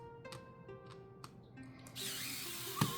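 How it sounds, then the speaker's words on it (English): An electric screwdriver whirring in short bursts while a Nintendo Switch Lite is taken apart, brief high motor whines followed by a longer steady run and a small clunk, close and fairly quiet. "I don't know if I like this electric screwdriver."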